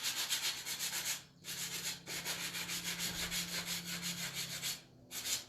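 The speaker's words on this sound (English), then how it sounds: "just maybe sand a little bit on the smoother side if you want to" Steady scratchy rubbing of sandpaper on wood, close and continuous, in long strokes broken by two brief pauses.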